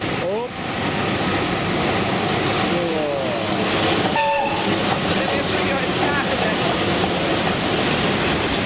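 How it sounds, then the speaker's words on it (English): A train to Lviv rumbles steadily at a railway station, with a brief horn-like tone midway, while people talk faintly under the continuous rail noise. "Railway station Kleven, and this is our train to Lviv."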